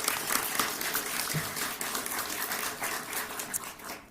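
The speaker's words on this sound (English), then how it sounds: "Let's give her a round of applause." Applause from an audience at a city ceremony honouring a hospital care team, fairly quiet and distant, a steady patter of clapping with no talk.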